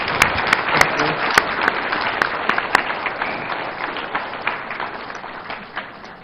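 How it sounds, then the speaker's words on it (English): An audience at a West African development policy discussion gives a president a round of applause, steady dense clapping from a crowd that gradually fades toward the end. "I will ask for another round of applause for President Mahama."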